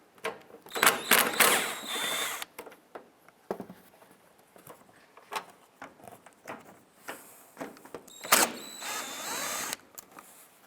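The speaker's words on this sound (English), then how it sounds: "Using a 10mm socket, we're going to go ahead and remove this bolt" A 10mm socket turns out a bolt on the headlight of a 2005-2010 Jeep Grand Cherokee, with bursts of quick ratcheting clicks and metallic taps separated by short pauses, close and fairly quiet.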